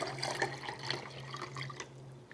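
Water being poured into a lemonade pitcher holding raspberries: four cups of water splash and trickle steadily from the pitcher's interior for about two seconds, a constant low hum underneath, with no talking.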